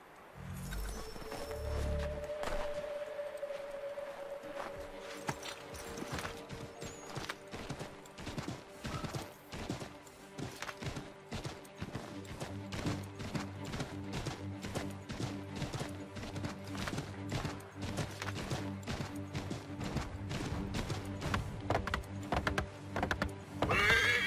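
Horse hooves clip-clopping and a neigh from the video game Assassin's Creed III: a whinny early on, then repeated rhythmic hoofbeats over game music and ambience, growing busier toward the end without speech.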